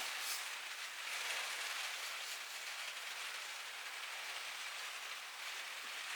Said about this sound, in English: if you can hear rain on the roof, it's because we're having a bit of a storm go through today